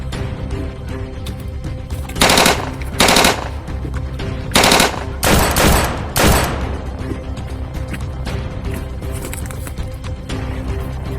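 Guns fire in a shootout: several loud bursts of rapid automatic gunfire break out in quick succession, each a few rapid cracks, over a steady background hum.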